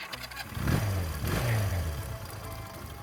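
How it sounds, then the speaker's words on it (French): A Honda CB 125 K5 motorcycle's small engine turns over on its electric starter and catches, followed by a short rise in revs and a steady idle heard at close range. "la K5 est équipée d'un démarreur électrique"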